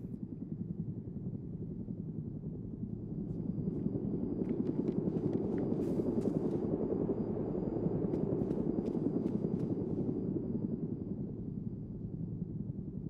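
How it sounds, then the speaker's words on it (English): A steady low rotor drone of a helicopter hovering nearby in the video game DayZ, continuous throughout, with faint clicks and game effects on top. "Oh, it's a helicopter."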